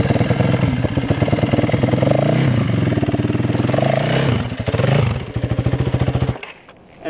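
Dirt bike engine revving hard at close range as the rear wheel spins during a foot-down turnaround, a loud rough continuous buzz with rising and falling revs, cutting off abruptly near the end.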